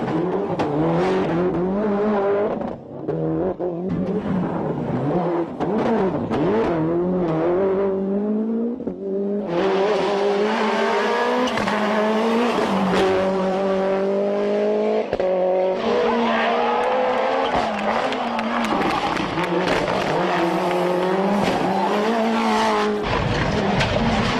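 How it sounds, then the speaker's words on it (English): A radio-controlled Toyota Celica GT-Four rally car roars and revs at high speed on a fast rally stage, with tire squeal and skidding as it races along, loud and continuous throughout. "a fast rally stage with beautiful sound"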